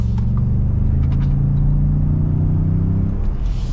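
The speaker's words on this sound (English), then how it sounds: "we will get our full blown acceleration here with the Tremor and see how it goes" A Ford F-150 Tremor pickup with an EcoBoost engine accelerates hard at elevation, its loud, steady low engine roar and rumble building continuously and close throughout.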